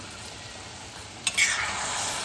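Warm milk stirred into sweet prasad in a pan over a low flame: quiet bubbling hiss, then a brief clink and scrape around the middle before a louder, steadier simmering sizzle.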